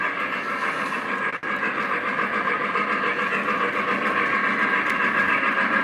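A model train engine, a Y3 locomotive, runs steadily on a home layout, giving a continuous rolling clatter and hum close by with no talk over it.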